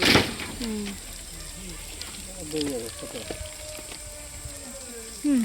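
Cumin and onions frying in oil for masala khichdi cooked over a wood-fired chulha, a soft steady sizzle running throughout beneath close conversation and household voices.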